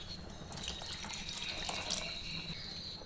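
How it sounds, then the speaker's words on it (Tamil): Water is poured over chopped vegetables in a pot for idli sambar, giving a steady close gushing and splashing sound with no voices. "நல்லா காய் முழுகிற அளவுக்கு தண்ணி சேர்த்துக்கலாம்."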